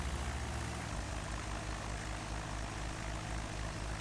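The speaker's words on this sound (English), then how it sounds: "Okay, so we're taxiing to the ramp." A Cessna propeller airplane taxis to the ramp after landing, its steady low engine drone and propeller hum filling the cabin continuously and loudly, with no talk.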